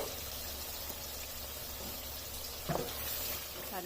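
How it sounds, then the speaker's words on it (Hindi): Ground masala paste for chickpea curry fries in a pan, giving a steady low sizzle throughout with a brief stir or scrape near the end. "अब इस मसाले को इसमें 4 से 5 मिनट तक भून लेना है।"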